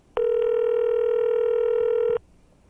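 A steady telephone dial tone sounds alone for about two seconds on a line used to call a telecommunications company's management, clean and loud, then cuts off abruptly.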